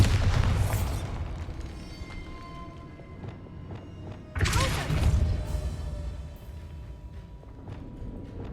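Bombarda blasting spell explosions in Hogwarts Legacy, two loud booming bursts with rumbling debris, the first at the start and a second about halfway through, over game ambience.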